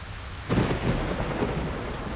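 Heavy rain pours steadily outside during a thunderstorm in the Hindi film Saari Raat. A loud roll of thunder breaks in about halfway and rumbles on under the dense, constant downpour, with no voices.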